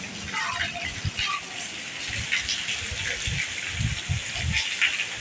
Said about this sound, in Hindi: देखें कैसे पानी चल रहा है।